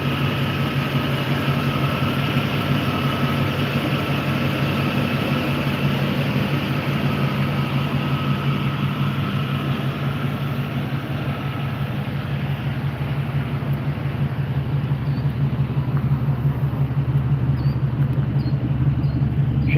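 A wagon engine idles with the hood open, producing a steady, mellow low hum that stays even and continuous throughout, with no voices.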